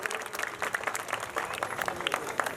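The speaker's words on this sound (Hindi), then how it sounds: "जोरदार तालियों से स्वागत कीजिए।" Guests welcoming arrivals with brisk clapping from a small crowd, the claps close and uneven, quick and continuous over a couple of seconds.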